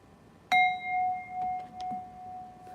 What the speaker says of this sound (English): I just had to strike the bell because I finished the chapter.